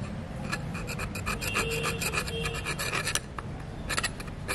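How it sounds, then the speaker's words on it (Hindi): A brush scrubs melted paint from the edges of a bike brake caliper with rapid, close, rasping strokes in an uneven rhythm, with brief scratchy bursts standing out over the steady scrubbing. "इसके बाद में मैं ब्रश यूज़ करूँगा जो इसके एजेस वगैरह में पेंट रह जाएगा वो निकल जाएगा"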